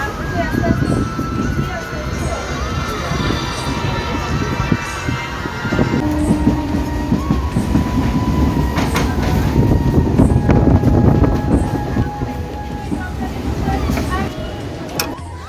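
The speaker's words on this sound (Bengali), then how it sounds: "রানাঘাটে এসে গেছে ট্রেন, রানাঘাটে ঢুকছে ট্রেন আর কি।" A passenger train pulls into Ranaghat station with a continuous rumbling roll and clattering wheels, the squeal of braking rising over the din, while people talk nearby.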